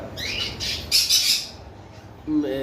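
A pair of conure parrots gives a few loud, harsh squawks in quick bursts up close, followed by a brief tonal call near the end.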